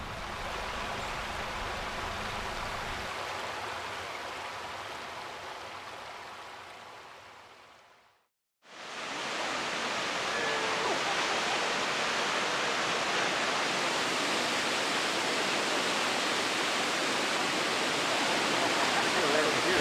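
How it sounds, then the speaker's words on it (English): Multnomah Falls, a tall waterfall plunging over layered Columbia River basalt, gives a steady broad rushing roar that cuts out briefly, then returns louder and fuller. "Today we're at Multnomah Falls."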